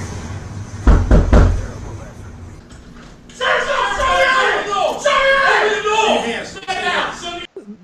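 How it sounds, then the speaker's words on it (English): A few loud knocks on a door ring out from a played-back recording, followed by muffled chatter and voices talking over a room. "it was basically loud knock"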